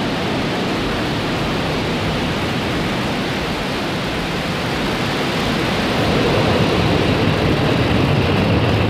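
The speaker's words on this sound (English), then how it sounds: "Engine ignition and liftoff of the Falcon 9 rocket" Falcon 9 rocket engines ignite and lift off carrying the TurkSat satellite, a steady, dense roar filling the whole clip without break and swelling louder over its last few seconds, with no voices on top.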